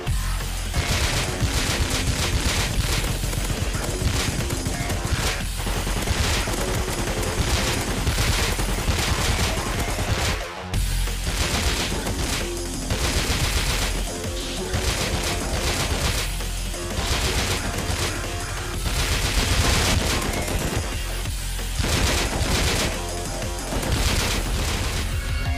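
Relentless, loud gunfire from the video game Rust, with rapid automatic bursts stacking into a dense, continuous barrage across the whole stretch, with only a brief break partway through and no talking.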